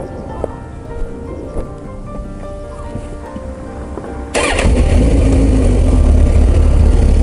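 A motorcycle pulls away on a relaxed touring ride toward the Seto Ohashi bridge in Japan. Quiet background gives way midway to a sudden, loud and steady engine rumble that carries on to the end.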